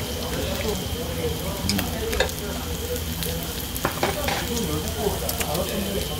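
Korean pork belly and kimchi sizzle on a grill with a dense, steady hiss and occasional pops and crackles. Faint talk sits under the frying.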